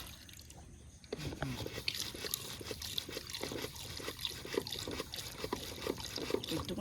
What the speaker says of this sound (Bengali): মাংসটা ধুয়ে নিচ্ছি।